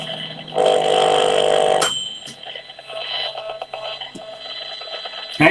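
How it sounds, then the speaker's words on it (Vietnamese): An electromagnetic radiation meter sounds its alarm: a loud steady electronic beep-tone that holds for about a second and a half, cuts off, then faint residual tones and clicks follow with no talk. "Ở đây là nó có báo động này."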